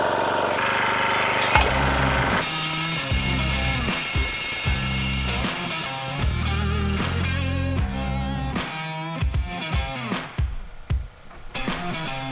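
A powered post driver pounds a fence post into the ground for a chain-link fence, a loud engine roar with rapid repeated hammering blows that stop and restart several times, close by, with no talk.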